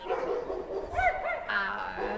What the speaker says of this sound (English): now all the dogs in my neighborhood have decided to bark as well